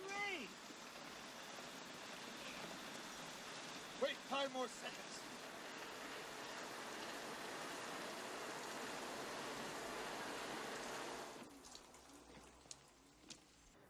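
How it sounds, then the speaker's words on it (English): Heavy rain pours steadily outdoors as a broad, constant hiss for most of the stretch, with a few brief bird chirps and a short spoken phrase near the start, before the downpour cuts off sharply near the end. "right now it's pouring rain."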